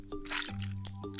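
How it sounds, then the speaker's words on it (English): Wet spaghetti is crushed by hand as movie foley, giving a close, quiet, moist squish with small dripping, squelching pulses over about a second. "Oh, it's just like wet spaghetti."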